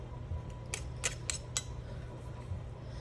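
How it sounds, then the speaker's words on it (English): A knife scrapes bread dough off a Danish dough whisk or fork in a few short, crisp metallic strokes, spaced about half a second apart, over a steady low hum. "And then you just clean off your fork or whatever with"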